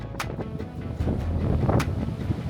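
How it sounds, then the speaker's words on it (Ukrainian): Strong wind in Lisbon buffets the microphone in gusty, rumbling bursts, with a few sharp thumps breaking through. "Вітер просто собачий."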